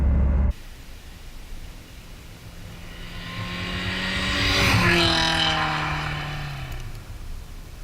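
A Honda Integra with a B18B engine passes by, its engine note climbing and swelling to a loud peak near the middle, then falling away with a Doppler drop under steady road and wind noise.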